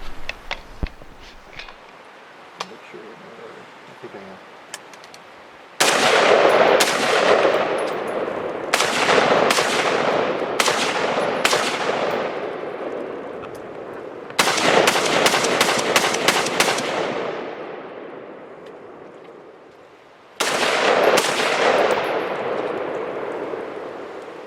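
A Beretta ARX100 rifle fires outdoors in sharp, loud bursts of rapid shots, with several separate strings of rounds broken by pauses, each ringing out with a fading echo.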